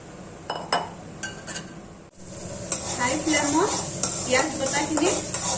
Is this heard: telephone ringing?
no